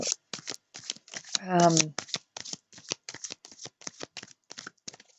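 Tarot cards being shuffled close by, a quick burst of crisp, rhythmic card flicks with one smoother riffle in the middle; a voice speaks briefly.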